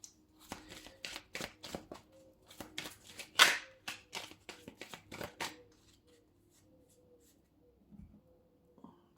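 Lenormand oracle cards shuffled and cut by hand: a rapid run of crisp, close riffling snaps and slides, one sharper flick in the middle, then a few soft shuffles fading into quiet.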